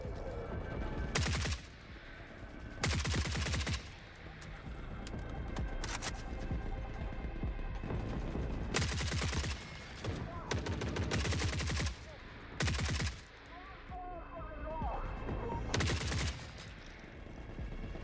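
Loud bursts of automatic gunfire in the shooter Forever Winter, with several long volleys separated by brief pauses and mechanical game sounds in between.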